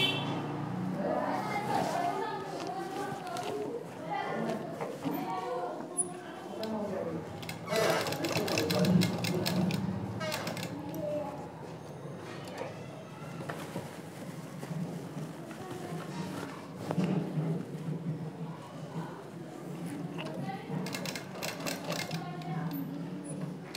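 Sewing machine stitching the side seam of a readymade lehenga, a steady rapid mechanical whir running almost continuously and close, with someone speaking over it at times.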